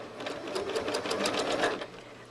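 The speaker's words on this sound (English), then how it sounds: "I'm going to stitch around this one in the opposite direction again." A sewing machine stitches a spiral across a quilt in a fast, even, continuous run of needle strokes, close and steady with no voices.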